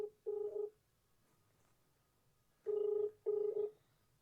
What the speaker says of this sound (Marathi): आत्याला फोन लाविते फोन उचलायचं काम नाही